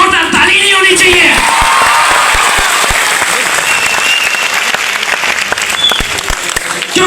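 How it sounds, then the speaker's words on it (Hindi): Loud audience applause for management staff at a motivational session for students, full clapping with some whoops and cheers, fading slightly toward the end. "तो इन सारे मैनेजमेंट के लोगों के लिए एक बार जोरदार ताली नहीं होनी चाहिए?"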